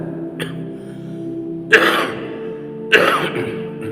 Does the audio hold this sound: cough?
yes